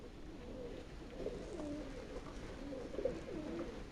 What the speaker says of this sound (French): Tout le plafond est rempli de pigeons.